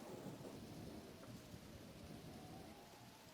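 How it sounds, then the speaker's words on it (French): A storm at sea in the Pokémon Mystery Dungeon game brings a dense, continuous roar of heavy rain with a deep rumble of thunder underneath, loud and unbroken throughout. "Tempête en mer."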